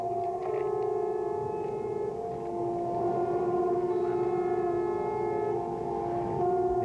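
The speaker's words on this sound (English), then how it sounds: "These are definitely the air raid warning sirens." An air raid warning siren wails over eastern Saudi Arabia during the 1991 Gulf War, a sustained, steady tone with layered harmonics that holds for the whole stretch from a distance, with no voices.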